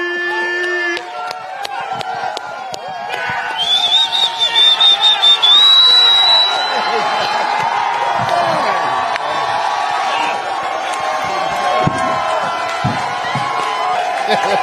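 At a Justice League convention panel, a large crowd cheers and screams loudly for about fifteen seconds, with rising whoops and shrill shrieks over a steady roar.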